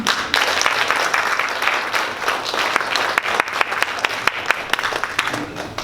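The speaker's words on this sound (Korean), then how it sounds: "큰 박수로 모시겠습니다." Audience applause fills a hall at a Korean textile-industry lecture event, dense steady clapping from a crowd lasting several seconds at close range, with no talk over it.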